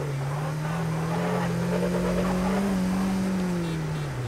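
A car engine revs in GTA San Andreas with a high-quality sound mod: a loud, steady mid-pitched drone that swells slightly and then eases off, alone and close.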